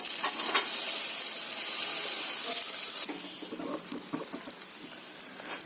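Appe dumplings sizzle and fry in oil in a pan, a steady close hiss that drops in level partway through as they are turned, with light scraping and crackling after.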